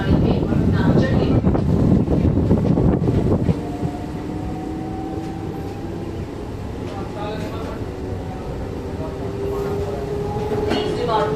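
A running train moves through an Indian railway station, a loud rumbling clatter at first that drops to a steadier hum, with long drawn tonal squeals and whines sliding across it.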